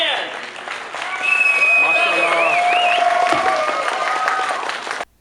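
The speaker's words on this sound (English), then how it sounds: "Let's have one massive round of applause for all of our guests," Convention crowd applauding guests and performers, a sustained wash of clapping with some cheering that rises and holds before cutting off, with speech-like tones over the top.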